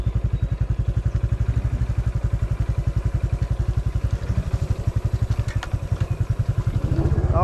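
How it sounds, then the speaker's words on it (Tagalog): A motorcycle engine putters along at a steady low rhythmic beat as it rides slowly across a narrow bridge over muddy ground, close and continuous throughout with a brief rise in revs near the end. "Buti nga nagkasyang motor."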